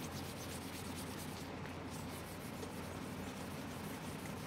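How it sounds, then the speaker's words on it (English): Gelcoat being sanded by hand with 320 grit sandpaper, a steady close abrasive rubbing hiss that runs continuously without pause. "So first, you always wanna sand it down with the 320."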